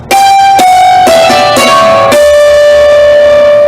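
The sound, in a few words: hammered dulcimer playing ending phrase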